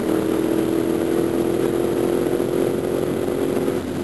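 A motorcycle on a group ride, a loud steady engine drone with rushing wind noise, constant and close throughout, with no voices.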